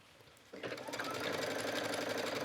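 A sewing machine starts up after a brief pause and stitches steadily along the hem of an A-line skirt, a close, continuous rapid whirring and ticking.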